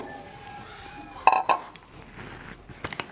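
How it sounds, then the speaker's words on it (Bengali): Cauliflower florets drop into a kadai, giving two quick metallic clinks close by, followed by lighter rattling and clattering of the pan. "এবার আমি কড়াই চাপিয়ে দিয়েছি, ফুলকপিটা দিয়ে দিচ্ছি।"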